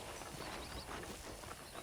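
Horse hooves clip-clop faintly and steadily in the Red Dead Redemption video game, a soft continuous patter under a bed of ambient noise.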